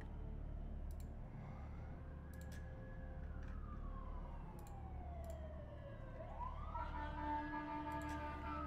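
Emergency sirens wail in slow rising and falling sweeps, heard at a distance and fairly faint over a steady low background rumble, with a second siren tone joining near the end.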